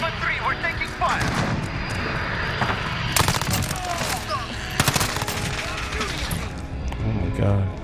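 Gunfire in the video game Modern Warfare, firing yellow tracer rounds: bursts of shots crackle over a steady aircraft engine drone, with sharp loud volleys near the middle and end amid a busy battle mix.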